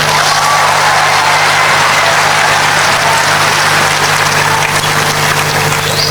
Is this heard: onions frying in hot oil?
no